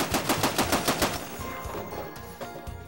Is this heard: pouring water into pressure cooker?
no